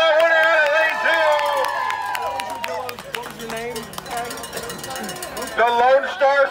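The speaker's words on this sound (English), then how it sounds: "give her a round of applause" A crowd at an armadillo race in a Houston venue applauds and cheers the winner, with scattered clapping and shouts under loud announcer-style talk and background music throughout.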